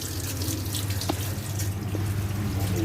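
A tap runs steadily into a sink as hands are washed at a nature-styled café in Bali, a close, even rush of water with a few small splashes and no talking.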